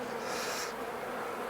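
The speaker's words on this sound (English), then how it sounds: "The bees are trying to sting my hand" Honeybees swarm around an opened poly hive, a continuous close, droning buzz that swells briefly and then settles, with no voices.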